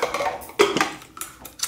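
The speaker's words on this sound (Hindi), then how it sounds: "अब कुकर को बंद कर देंगे" A pressure cooker lid is set in place and closed in a kitchen, making a short run of close metallic clanks and scrapes with a few sharp knocks spaced over under two seconds.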